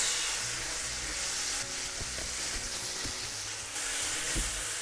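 Shishito peppers with miso sauce sizzle steadily in a hot pan, a broad, constant frying hiss close by, punctuated by a few soft clicks and knocks as the mixture is stirred.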